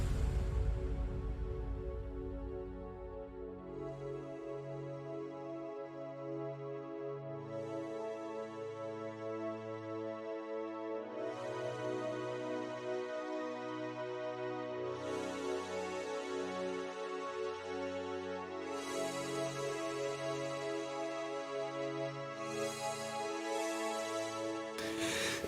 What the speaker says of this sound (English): So for the synth sounds we have some Spire and Nexus layers.